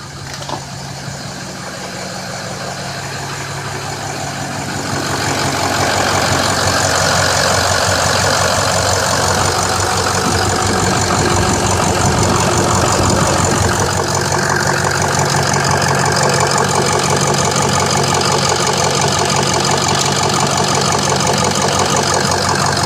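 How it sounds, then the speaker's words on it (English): A 6.0 Powerstroke diesel truck with its CCV vented to atmosphere idles steadily and loudly, a constant rumble with a faint high whistle from the exhaust running throughout. "Exhaust has still got the same whistle it's always had."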